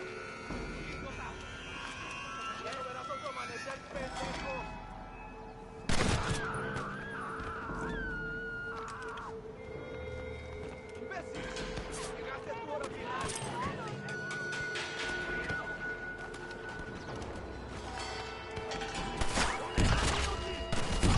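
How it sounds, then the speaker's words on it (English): A hunting shotgun and a pump-action shotgun fire in the Western video game Red Dead Redemption, with two sharp, loud blasts far apart, one near the start and one at the end, under ongoing talk. "This hunting shotgun is cool as hell. Or this pump action shotgun."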